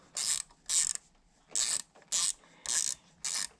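A ratchet clicks in six short bursts of rapid pawl ratcheting, close and clear, as a 10mm bolt is backed out on a Duramax L5P diesel engine, with brief quiet gaps between strokes.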